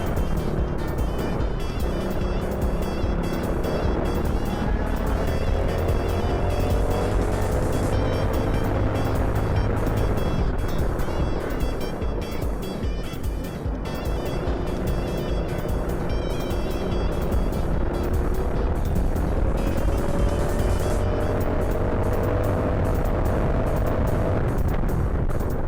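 A dual-engined Prokart laps the Wombwell Karting circuit at full race pace. The close, buzzing engine note rises and falls repeatedly through the corners and straights, with nonstop loud revving and no talking.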